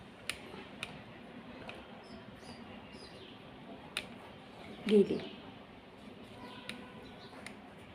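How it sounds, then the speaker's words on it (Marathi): Faint, scattered chirps from a house sparrow sound sporadically in a quiet room, with a louder rustle midway; someone speaks softly between them. "एक चिमणी आलेली आहे"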